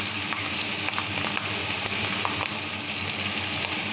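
Spices sizzling in a hot pan while cooking kachur shak, a Bengali taro-leaf dish, with water poured in, giving a steady, close frying hiss with small crackles and stirring scrapes throughout.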